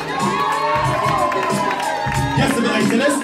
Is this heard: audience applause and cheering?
yes